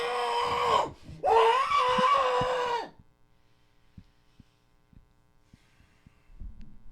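A man screams into his arm in two muffled but loud bursts, the second longer, followed by near silence with faint soft knocks.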